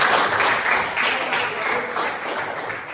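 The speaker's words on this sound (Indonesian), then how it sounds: "Ya, tepuk tangan dulu dua kelompok." Classroom applause from students for two presenting groups, a steady dense patter of many hands clapping together, fairly loud and continuous throughout.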